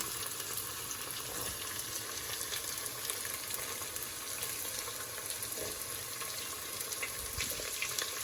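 Onions sauté in a pan for Kerala-style chilli chicken, giving a constant, close crackling sizzle with scattered pops and stirring noises, steady from start to finish.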